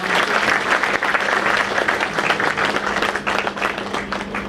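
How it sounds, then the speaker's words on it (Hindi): Loud, sustained applause from a crowd at a Bar Council of Delhi enrolment meeting, many hands clapping densely and evenly in a hall, with a faint steady hum beneath. "जी हमारे बीच में एक बड़ी जोरदार तालियों के साथ"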